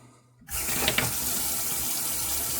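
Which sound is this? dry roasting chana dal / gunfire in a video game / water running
water running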